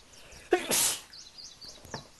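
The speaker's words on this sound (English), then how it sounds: "Yes, there was a sneeze." A single short sneeze bursts out in the Jurassic Park: Operation Genesis game, a sharp breathy blast lasting about half a second over quiet background, followed by faint chirping.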